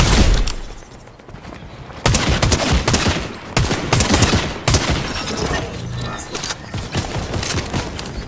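Rapid, loud turret gunfire in Fortnite hammers in dense bursts with cracks and impacts, nearly continuous, with no talk over it.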